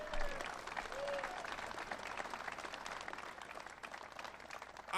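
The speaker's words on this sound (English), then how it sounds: "Let's give another round of applause for Governor Shapiro." Audience applause following a call to cheer for Governor Shapiro at a morning event in Columbia County, Pennsylvania: steady, dense clapping from a crowd that holds for several seconds and slowly thins.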